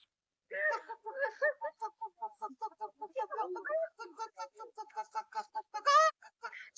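A person's voice imitates a chicken with a run of rhythmic clucking and squawking calls, ending in a higher, louder crow-like cry.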